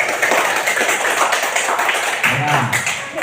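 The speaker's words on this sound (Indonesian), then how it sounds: "Tepuk tangan untuk semuanya." Children clapping hands in a classroom, quick loud claps from a group close by, with voices talking over them and a teacher's voice near the end.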